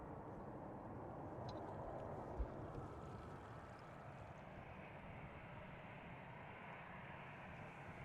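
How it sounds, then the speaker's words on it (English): A 15-year-old German Airways Embraer 190, flying for KLM, departs Amsterdam Schiphol, its jet roar faint and distant as a steady, wind-blurred rumble that holds evenly throughout. "Our DAPRI German Airways Embraer 190 flying for KLM."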